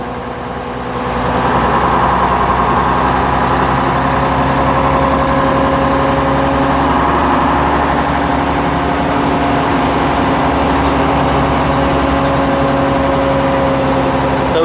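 The engine of a 1956 Daimler double-decker bus, governed to 1700 RPM, runs with a steady low drone and a constant hum, loud and close throughout with no speech.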